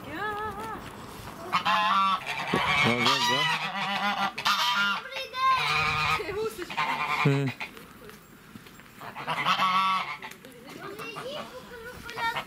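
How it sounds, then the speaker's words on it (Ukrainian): Geese honk loudly and repeatedly at close range in a village at Christmas, with a brief voice in the middle. "Гусочки"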